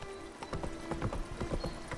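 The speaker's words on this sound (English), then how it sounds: "go ahead and travel there on horseback." Horse hooves clip-clopping in the Witcher 3: Blood and Wine game, a steady rhythmic trot of close, clear hoofbeats over faint ambient game sound.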